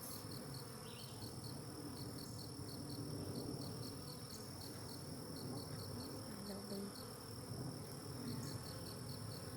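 Honey bees buzz softly around an opened hive during an inspection, a faint continuous hum under a thin, regular high chirping that sounds like nearby crickets, with no talking.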